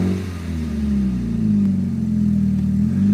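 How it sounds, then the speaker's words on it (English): An unhealthy-sounding car engine hums and revs steadily at close range, a loud low droning tone rising slightly, with no talk over it. "The engine does not sound healthy. Rev it a little."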